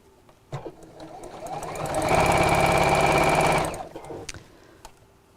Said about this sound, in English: I'm sewing quite close to the edge